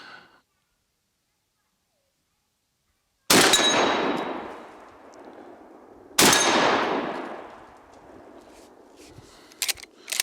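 Two loud, close shotgun blasts ring out about three seconds apart from a Fed Arm FX3 semi-auto 12 gauge firing slugs outdoors, each decaying into a long echo, followed by a few faint clicks.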